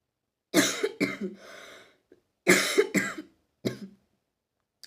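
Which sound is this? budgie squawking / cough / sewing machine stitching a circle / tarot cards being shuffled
cough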